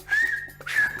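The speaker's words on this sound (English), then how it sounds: "Everything we speak can be whistled." Whistled language from the Canary Islands heard in a film excerpt: two clear, sliding whistle phrases, close and loud, separated by a brief pause.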